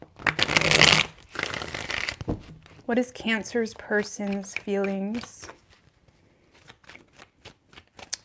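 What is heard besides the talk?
shuffling a deck of reading cards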